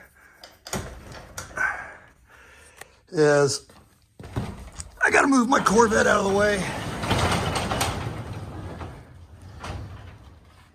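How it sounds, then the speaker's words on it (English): A residential garage door, whose opener has a faulty control board, is disconnected from its trolley and moved by hand: a few sharp thunks, then several seconds of rolling, scraping rumble, with someone talking throughout. "we'll manually disconnect the garage door trolley."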